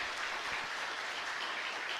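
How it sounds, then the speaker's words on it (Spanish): A Catholic mass congregation at the María Auxiliadora chapel in Ñemby claps together in steady, dense applause that fills the whole moment without any talk. "Fuerte aplauso para el Señor entonces."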